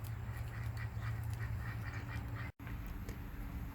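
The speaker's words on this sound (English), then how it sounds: "ducks and chickens in here." Ducks kept together with chickens in a backyard pen, quacking in a steady run of calls against a continuous low hum, with a brief dropout near the end.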